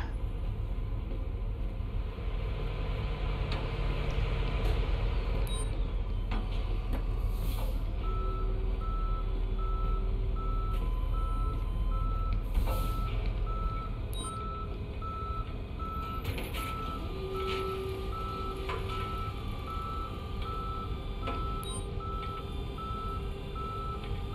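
A tow truck backs up with steady, evenly spaced reversing beeps over a constant engine rumble, close and continuous throughout, in the police video game Police Simulator: Patrol Officers.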